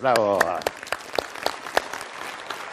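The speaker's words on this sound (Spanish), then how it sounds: "Un aplauso" A voice speaks briefly at first, then a motivational-talk audience breaks into light, scattered applause of individual sharp claps that continues steadily at moderate loudness.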